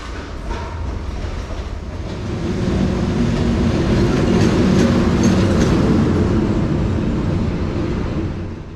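A ZSSK sleeper train rolls steadily along the rails, a loud continuous rumble with faint rhythmic clatter building and holding throughout.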